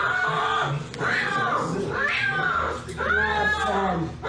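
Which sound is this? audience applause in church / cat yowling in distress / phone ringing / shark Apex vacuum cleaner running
cat yowling in distress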